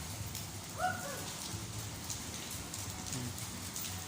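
Steady rain falls on a grey morning, a continuous close hiss of drops striking surfaces that holds at an even level throughout, with no voices over it.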